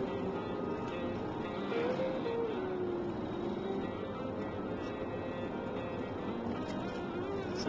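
Car interior drone while cruising past the Kahuku shrimp farms on Oahu's north shore, a steady low road and engine rumble with faint wind, no talk, constant level throughout.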